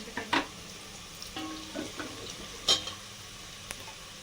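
Onions frying and sizzling in a pan while a utensil stirs them, with a few sharp scraping and clinking strokes over a steady soft hiss; close and fairly quiet, no talking.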